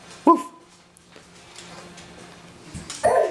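Playful dogs make a sharp bark or yelp near the start and another yip near the end, with faint whimpering and rustling in between.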